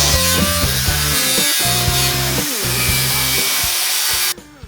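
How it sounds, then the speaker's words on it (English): A linisher smooths off welds on the rear quarter of a Series 3 Land Rover chassis, giving a loud, steady abrasive whine with rhythmic drops and surges as it is pressed and lifted, before cutting out abruptly near the end. "have been linishing off the welds on the rear quarter"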